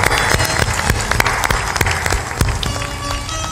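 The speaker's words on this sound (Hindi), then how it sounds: "सब लोग ताली बजाकर अभिनंदन" An audience applauds at a religious satsang gathering, steady dense clapping with sharp individual claps standing out, loud and continuous throughout, with faint voices mixed in.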